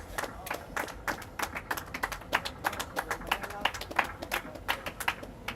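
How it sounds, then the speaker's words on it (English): A small crowd at a drone racing league qualifier event claps for a pilot, scattered uneven handclaps with distinct individual claps and faint talk underneath. "round of applause for Shady FPV"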